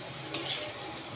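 Fish dropped into a hot pan with plenty of onion and garlic, giving a sudden sizzling burst that settles into a steady close fry with a faint utensil clink.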